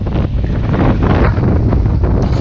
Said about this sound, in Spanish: Día nublado, está frío, muy ventoso